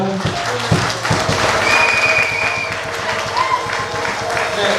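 Crowd clapping and cheering rises in a busy room at a wedding sermon, mixed with voices and background noise throughout.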